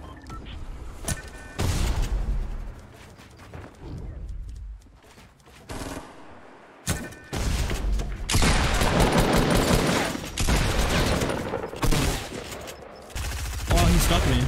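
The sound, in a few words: gunfire in Fortnite Battle Royale video game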